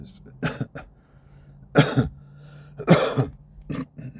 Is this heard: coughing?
yes